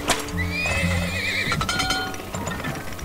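A horse in the video game Turmoil neighs with a long, wavering whinny, then hooves clip-clop in a quick rhythm, close and clear with no voices.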